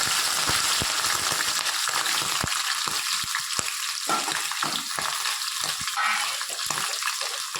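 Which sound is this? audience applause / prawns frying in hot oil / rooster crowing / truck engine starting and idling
prawns frying in hot oil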